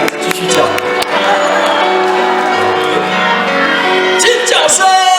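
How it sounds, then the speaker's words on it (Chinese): Concert audience at a Hokkien-song show in Kaohsiung screaming and cheering loudly and continuously, a dense crowd roar with whoops over sustained music, staying at full level throughout. "尖叫声！"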